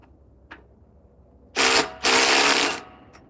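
A new Bosch power tool tightening at 76 foot-pounds lets out two loud, close bursts, the first short and the second longer, after a faint click and near silence.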